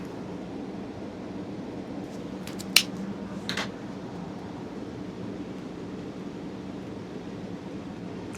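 A Montecristo White Series cigar cap clipped with a cutter, a single sharp snip followed by a brief softer second click, close and isolated against quiet room hiss.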